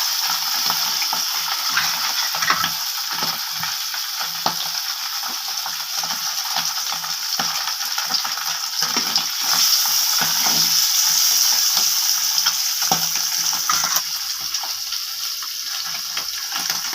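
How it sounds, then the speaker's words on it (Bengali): Pabda fish frying in a pan: a loud, continuous, close hiss of oil sizzling throughout, with occasional small clinks and stirring scrapes, and no voices. "বাকি যে মাছগুলো আছে ওই মাছগুলোও ভেজে নিব"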